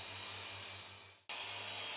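A steady, loud circular saw grinds through wood for construction formwork with a constant hum, cutting out abruptly for a moment before resuming at full volume.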